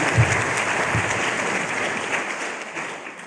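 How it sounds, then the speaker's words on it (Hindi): Audience applause at a motivational business meeting, a dense burst of clapping that starts strong and slowly fades over a few seconds, with no talk over it. "तालियां होनी चाहिए"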